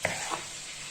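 Chicken fries in a pan with a soft, even sizzle heard close by, faint and steady, with a couple of light clicks near the start.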